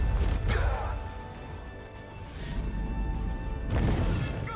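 A spaceship crashes in a Mandalorian season 3 finale scene: heavy rumbling impacts and crunching bursts swell three times over a loud, sustained orchestral score.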